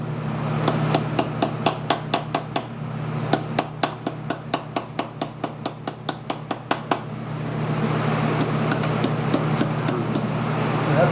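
Metal sheet hammered on an anvil and small block to form an anticlastic shape: a close, steady run of sharp ringing metallic blows, then a pause and a second, fainter series of lighter taps.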